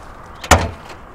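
A single car door handled beside a car whose engine has overheated, making one short sharp clunk that stands out clearly against a quiet background.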